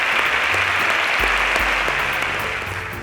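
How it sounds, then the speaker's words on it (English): A room full of people clapping, a dense steady applause that carries on throughout and starts to fade toward the end. "A round of applause for them."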